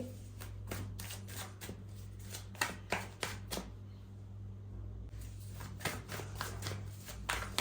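Tarot cards being shuffled by hand in quick, close riffling bursts, a steady run of sharp flicks that pauses briefly near the middle before resuming, over a low background hum.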